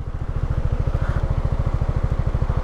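A motorcycle engine idles steadily nearby, a low, even putter with a regular rhythm and no voices.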